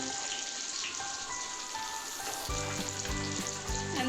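Chicken pakoda deep-fries in oil with a soft, steady crackling sizzle; a low tonal hum joins partway through.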